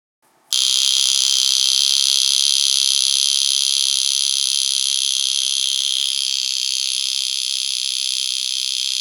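A loud, continuous high-pitched metallic ringing starts abruptly and holds steady for several seconds: a vintage Vulcain Cricket mechanical alarm wristwatch buzzing up close with its case back closed.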